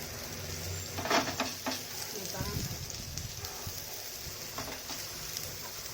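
Egg bread fries in a hot pan with a soft, steady sizzle and occasional scraping as the slices are flipped, under a woman's speech.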